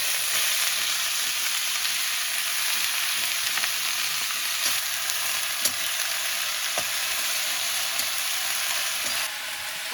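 Vegetables with turmeric and salt frying in a pan on a wood-fired chulha stove, a steady loud sizzle with sporadic clinks and scrapes of stirring, close and continuous.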